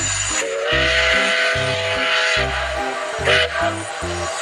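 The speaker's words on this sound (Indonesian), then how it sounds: "Ada kereta Thomas." A Thomas toy train runs with a steady chugging beat and a sustained steam-style whistle on top, loud and close, with a short louder burst near the end and no talking.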